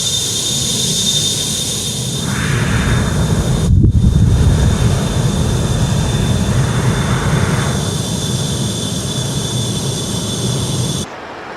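MD-80 jet engines spooling under thrust in Microsoft Flight Simulator, a steady loud broadband roar with wind-like hiss that swells slightly and holds, continuous throughout with no talking.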